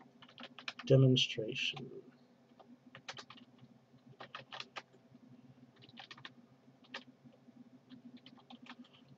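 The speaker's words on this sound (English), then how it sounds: "I'm just going to type in" Typing on a computer keyboard: soft, irregular clusters of clicks at close range, with a brief spoken word near the start.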